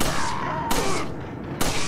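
Gunfire rings out in Resident Evil 4 on PS2 during the Del Lago boss fight, two sharp loud shots about a second apart over a noisy game background.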